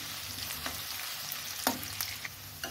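Chopped onions fry in hot oil until lightly browned for a Shillong-style local eggplant dish, giving a steady close sizzle with a few soft stirring clicks and no talking.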